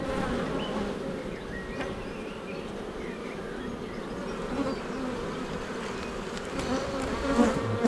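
Honey bees buzz continuously and close by during a hive inspection of a brood box with nearly full frames, a dense droning swarm with occasional louder passes and faint handling noises.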